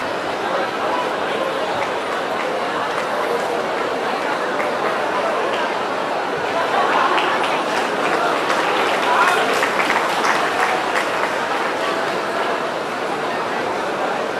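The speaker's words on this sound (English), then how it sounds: "Can we have a round of applause, Miss Zoya?" An audience at an inter-college youth festival in Patna applauds, with a sustained wash of clapping and crowd chatter that swells slightly midway and holds steady throughout.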